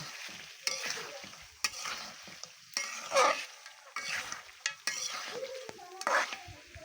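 Duck meat curry with cut potato pieces being stir-fried in a pan, giving a steady sizzle broken by repeated scraping stirs of a utensil against the pot, close and fairly loud with no talking.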